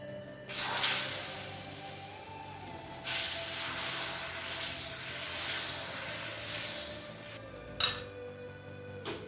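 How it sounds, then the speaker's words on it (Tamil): Besan (gram flour) dosa batter hitting a hot griddle gives a steady broadband sizzle and hiss that swells in bursts, with a brief metallic clink near the end; no one speaks. "இப்போ தோசைக்கல் சூடாயிடுச்சு, நம்ம தோசை ஊற்றிக்கலாம்."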